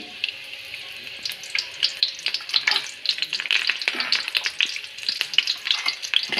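Curry leaves sputter and crackle as they hit hot coconut oil in a pan for chicken curry, a busy, close sizzle of irregular pops that grows denser and louder over several seconds.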